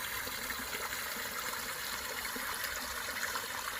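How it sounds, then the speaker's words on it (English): Small water cascade in a rocky creek bed at Shades State Park, Indiana, a steady close rushing and splashing that holds an even level throughout, with no voices. "Leave you with this little cascade right here."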